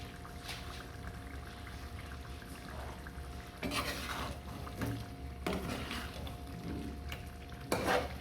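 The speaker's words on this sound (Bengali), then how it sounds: "এখন চিকেনটা দিয়ে আর একটু কষিয়ে নেব" Chicken pieces being stirred and sautéed in a pan for morog polao, with irregular scraping and clattering of the spoon against the pot over a low background, louder bursts coming in the second half.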